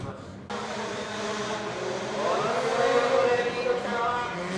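A rotary-engined time attack car, built light with a roll cage, screams down the straight at a track meet, its high-pitched engine note rising in pitch and loudness as it accelerates past.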